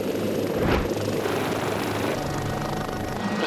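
Life Flight rescue helicopter at a roadside crash scene where an injured cyclist is being airlifted, giving a steady, loud rotor and engine roar that holds throughout without talk.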